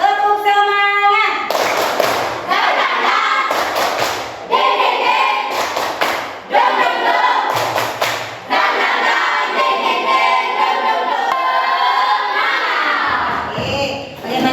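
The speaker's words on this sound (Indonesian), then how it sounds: "Tepuk semangat." Group rhythmic spirit clap led by a teacher in an Indonesian class, loud patterned bursts of hand claps alternating with chanted voices, punchy and close, in a repeating call-and-clap rhythm.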